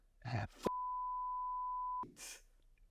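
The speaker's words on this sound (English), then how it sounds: "I can't swear. I beep it out." A single steady censor beep, a flat electronic tone held for over a second, cutting in between bursts of muffled talk.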